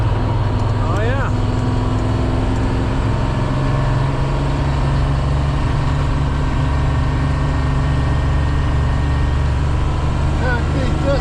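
An old Detroit diesel truck engine running steadily and loudly, a deep continuous rumble that fills the whole stretch, with people talking over it.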